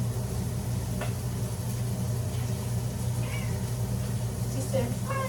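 A pet cat in a home kitchen gives a few faint, short meows, one near the start and a couple more toward the end, over a steady low household hum with a voice in the background.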